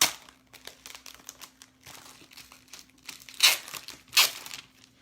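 A resealable plastic bag holding silkscreen transfers is pulled open nearby, giving a run of crinkling and rustling with two sharper crackly bursts toward the end.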